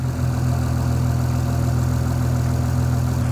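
A 2005 Honda Odyssey minivan engine idles steadily, a low rumble continuous and even, close by, with no speech over it, after engine work.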